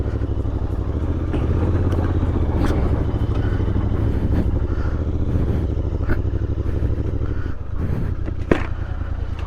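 A motorcycle rides over a rough road strewn with loose boulders near Siliguri, its engine droning steadily and close while loose rattles and clatter rise over the rough surface.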